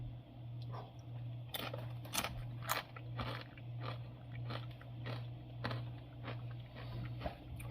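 Tortilla chips with salsa being eaten up close, a run of sharp crunchy bites followed by steady chewing, faint and close, over a low steady electrical hum.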